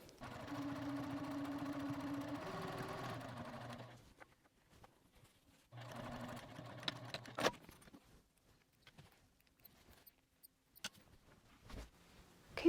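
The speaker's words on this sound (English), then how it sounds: "I have a narrow presser foot, so I just use the edge of the presser foot to line up against that fold, and then I'm going to go all the way down" A sewing machine runs in two steady bursts, stitching down a fold along a zipper pouch panel guided by a narrow presser foot, with sharp clicks and handling knocks in the quieter gaps between runs.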